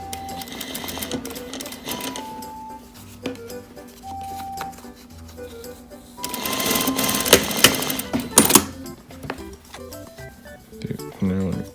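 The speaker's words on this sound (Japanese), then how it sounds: "角縫いからですね、こう1センチで縫います" A sewing machine stitches the corner of a pleated school-uniform skirt waistband in short whirring bursts, with one louder, faster run midway; a person talks between the stitching.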